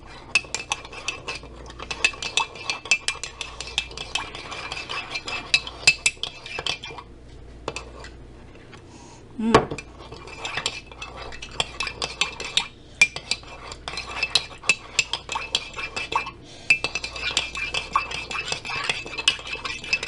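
A spoon stirs dinosaur island pudding in a bowl, making close, repeated clinks and scrapes against the sides in an uneven rhythm, with a few louder knocks and no talking.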